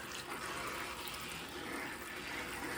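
Running water rinses collard green leaves, a steady faint wash of flowing water with no breaks or voices.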